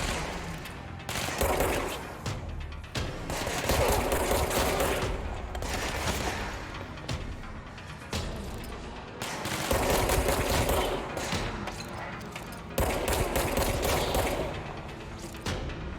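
Rapid automatic gunfire from the video game Control comes in loud, dense bursts separated by brief pauses, with booming impacts mixed in and almost no talk.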